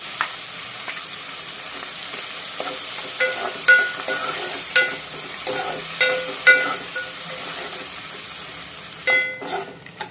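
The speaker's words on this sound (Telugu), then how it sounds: "ఇదే ఆయిల్లో ఈ ఎండు రొయ్యలు వేసుకుంటున్నాం" Dried shrimp fry in hot oil with a steady bright sizzle, while a spoon scrapes and stirs through the pan in repeated clinking strokes, the clatter quickening near the end.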